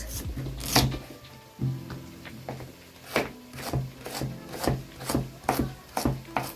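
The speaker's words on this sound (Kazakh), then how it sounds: "Сәбізімізді қалағанымызша турап аламыз." Carrots being chopped on a wooden board for plov, a run of about ten crisp knife strokes with a quickening rhythm, close by with no talking.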